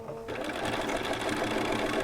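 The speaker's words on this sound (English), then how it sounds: "sewing and back stitching when I start and stop" A sewing machine stitches a quilted placemat, starting abruptly and running in a fast, steady mechanical whir, close and loud.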